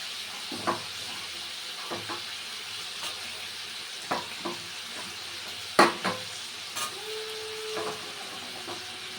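Green peas are stir-fried in a pan for an East Sikkim Zuluk-style noodle dish, giving a soft, steady sizzle broken by scattered scrapes and clinks of a spatula against the pan.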